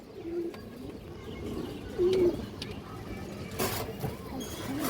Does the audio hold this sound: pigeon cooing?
yes